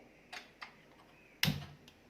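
Several quiet clicks tick out at uneven intervals, then one sharper, louder snap of an igniter, close by in a quiet room.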